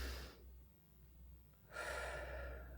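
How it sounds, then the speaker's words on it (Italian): A single deep breath, drawn in sharply then released after a short pause, quiet and close, with no voice. "Adesso facciamo un profondo respiro"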